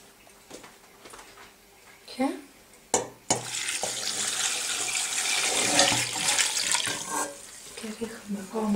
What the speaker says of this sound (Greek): Τώρα προσθέτουμε νερό.